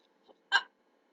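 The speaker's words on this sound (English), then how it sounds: "George drank his juice too quickly and now he has hiccups." A cartoon character hiccups after gulping juice too fast: a faint little catch, then one sharp, louder hiccup, each heard on its own against silence.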